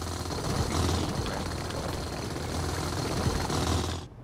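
A hand drill grinding into red iron ore in the game Space Engineers, a steady loud mechanical droning and rattling that runs continuously before cutting off at the end, with no voices over it.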